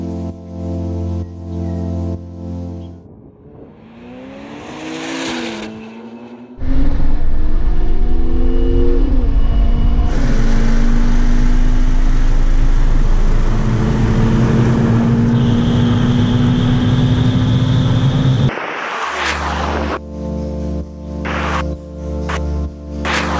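A Ferrari 488 Pista and an 800 bhp Porsche 911 Turbo S in a rolling race, engines swelling from a steady cruise into loud, sustained full-throttle roaring with rising gear pulls, close and powerful before fading back.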